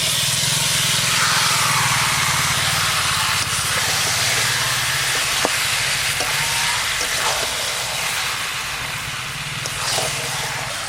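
Chicken pieces hitting a hot pan of spiced masala with turmeric and salt for a raw mango kasundi chicken curry, giving a loud, steady, close sizzle and hiss that runs the whole time with a few faint stirring clicks, no voices.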